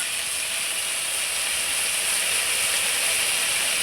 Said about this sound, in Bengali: ঢেঁকি শাকটা আমি খুব সুন্দর করে একটু তেলের মধ্যে খুব ভালো করে নাড়চাড় করে নিলাম।